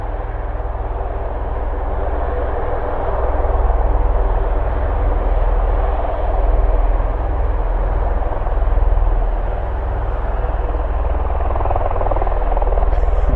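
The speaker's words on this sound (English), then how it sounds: "It's a V22 Osprey." A V-22 Osprey tiltrotor aircraft takes off at an airport. Its deep rotor drone holds steady and loud throughout, swelling and easing slightly, with no talk over it.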